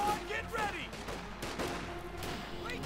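Rifle and machine-gun fire crackles through a Company of Heroes 2 battle between riflemen and grenadiers, with repeated sharp bursts and scattered shots over a rumbling backdrop, moderately loud and continuous.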